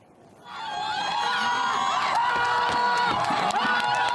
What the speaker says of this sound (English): this was the verdict, the response to that verdict, the supporters cheering it